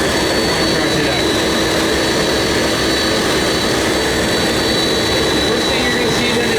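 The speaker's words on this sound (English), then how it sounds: "Live engine right in front of you, eh?" Jet engine of an airliner running live on the airside apron at Toronto Pearson International Airport, a steady loud broadband roar with a high whine, continuous throughout.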